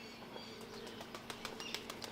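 A racing pigeon flaps its wings in flight during a rooftop pigeon-flying championship in Punjab, a series of soft, quick wingbeat pulses, fairly faint, with no voices.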